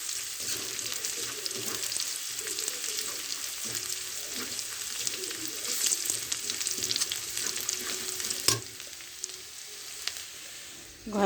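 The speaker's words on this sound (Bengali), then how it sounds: "লবঙ্গ একটা, এলাচ 3টা, আর দারুচিনি আছে সামান্য দিয়ে দিলাম তেলে।" Whole spices, cloves, cardamom pods and cinnamon, fry in hot oil while a biryani is made, giving a steady crackling sizzle with a few sharper pops and a brief clatter near the end.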